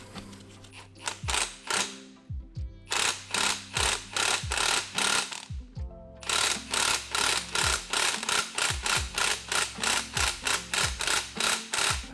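Pneumatic impact wrench tightening the upper strut nut on a BMW E60 M5 strut assembly during a lowering spring install, firing rapid repeated bursts of hammering rattle, close and loud, with a brief pause near the start and middle.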